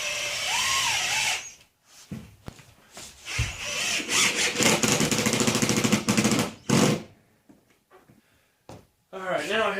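A power drill drives a screw with a washer into a wooden skateboard bowl panel indoors, whirring in short bursts with gaps, while a person talks between runs.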